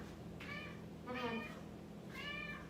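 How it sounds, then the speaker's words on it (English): A pet cat meows three times in succession, each a drawn-out, tonal cry, heard fairly close indoors over a steady low hum during a home yoga session. "This is my cat"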